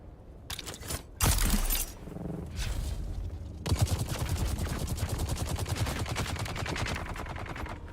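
Gunfire in the survival game Dune Awakening: a short loud burst early on, then from about midway a long, close, steady stream of rapid automatic shots with no talk.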